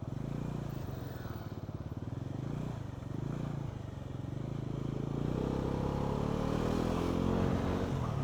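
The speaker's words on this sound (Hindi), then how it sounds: "और बाइक चल रही है" A Bajaj Pulsar NS400Z motorcycle on a long road trip rides along with a steady, low engine drone. It grows slightly stronger toward the end, with road and wind noise underneath.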